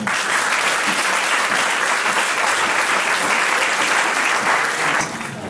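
A congregation at a French church worship service applauds steadily and loudly, dense clapping holding for several seconds before easing off at the end.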